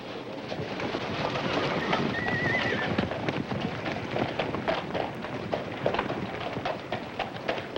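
Hooves clip-clop steadily on the ground as a horse is led out at a Western auction, with a brief whinny early on, moderately close amid a busy outdoor background.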